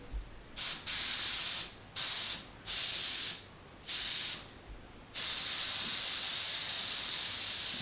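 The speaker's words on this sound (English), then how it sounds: "So we'll keep spraying until the compressor kicks in." A loud, steady airbrush hiss cuts in and out in several short bursts, then holds continuously, with a low hum from a small Fengda FD-186 compressor underneath.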